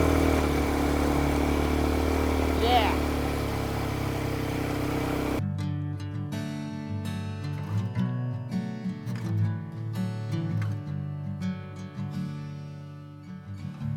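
A vehicle engine revs and idles close by during a beach ride at Murud, with a steady mid-pitched drone for about five seconds before music-like tones take over and the motor fades underneath.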